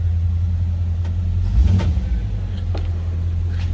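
A 1954 Chevrolet 3100 pickup street rod engine idles with a deep rumble, then briefly revs up and settles back down.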